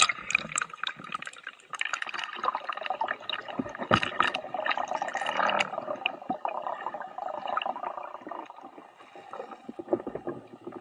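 A 360 camera is lowered into Mediterranean sea water from a boat in the Strait of Messina, with irregular splashing, sloshing and dripping close by, busy and uneven throughout with brief quiet gaps.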